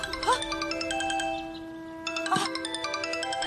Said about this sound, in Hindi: अरे बेटा, ओ बेटा, ये फोन आ गया, जल्दी आओ।